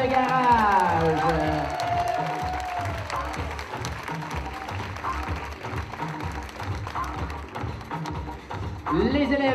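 An audience at an elementary school show applauds a student scene, dense sustained clapping and crowd noise running throughout over a steady thumping music beat, with brief cheers near the end.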